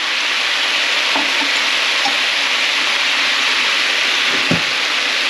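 Steady, loud sizzling of sauce added to stir-fried glass noodles with shrimp and bok choy in a hot pan, an even frying hiss throughout with a few faint clinks of stirring.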